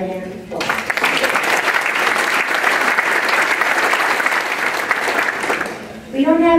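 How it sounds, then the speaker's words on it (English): Rotary Club audience applause for volunteers, loud sustained clapping from a crowd after a brief voice, then a voice returns as the clapping ends. "So let's give them a hand of applause."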